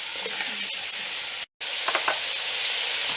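Vegetables browning in a Dutch oven for Italian-style braised lamb shanks: a steady, close sizzle with stirring scrapes, broken by a brief silent gap.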